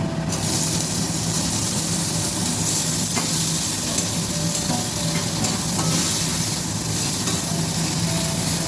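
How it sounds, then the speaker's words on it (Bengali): Chopped tomatoes go into a pan of browned fried onions for an egg tadka, setting off a loud, continuous hissing sizzle with faint stirring scrapes, steady from start to finish and free of talk. "এবার আমি এখানে টমেটো কুচিয়ে রেখেছিলাম দিয়ে দিচ্ছি"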